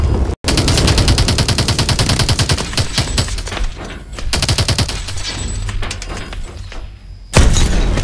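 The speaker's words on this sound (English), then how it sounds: "Taking fire from the right!" Heavy gunfire in the Call of Duty: Advanced Warfare Biolab mission: rapid machine-gun bursts and overlapping shots fill the scene, loud and continuous, with a few booming impacts and a brief pause near the end.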